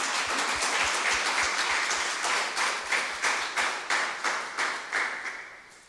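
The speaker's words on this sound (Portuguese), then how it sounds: "Isso merece uma salva de palmas, não merece?" An audience at a Marian retreat gives a round of applause, with dense, steady clapping that turns into rhythmic unison claps before fading slightly.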